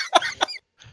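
A bugbear hacks out two sharp, close coughs in quick succession, then falls briefly silent before a faint breath.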